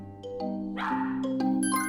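A pet dog in a living room gives a few short, faint barks and yips from a little distance over a steady background hum from a television.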